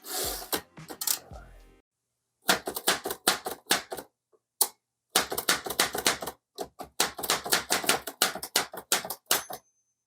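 Keys of an Underwood 378 typewriter clatter in quick bursts of sharp, close strikes. A brief opening flurry is followed by a pause, then long runs of steady, rapid typing with short gaps.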